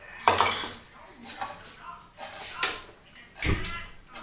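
A metal pan being handled and set down to heat on the stove, with a few sharp clanks and clinks of cookware and utensils at irregular moments, close and fairly loud.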